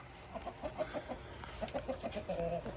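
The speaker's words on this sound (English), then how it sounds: "Here come the chickens out." Backyard chickens out after a rainy weekend cluck in a steady run of short, repeated notes, fairly near and alone with no talking.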